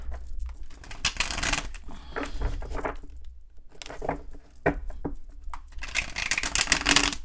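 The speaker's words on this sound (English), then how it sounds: "this deck is the worst to shuffle" Tarot cards are shuffled repeatedly in quick riffling bursts, close and fairly loud, with brief pauses between shuffles.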